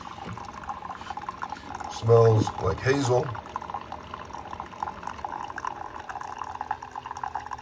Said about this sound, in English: It's just pouring in there.